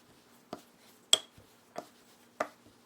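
A rolling pin working flour-dusted bread dough on a board into a large thin round, giving four soft, evenly spaced knocks and thumps against a quiet, otherwise still background.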